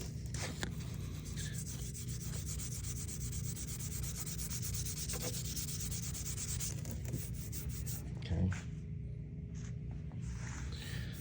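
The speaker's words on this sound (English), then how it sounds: "I've done some fair amount of sanding" Quiet, steady rasping of sandpaper rubbed by hand back and forth over wood in continuous strokes, close by, with a brief knock near the end.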